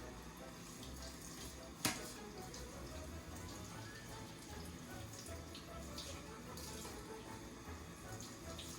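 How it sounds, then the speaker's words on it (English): Faint running water from a sink tap streams steadily while a plate is rinsed, with one brief clink early on and a soft continuous splash throughout. "now we can wash it off in the sink, making sure to be very careful not to get water everywhere"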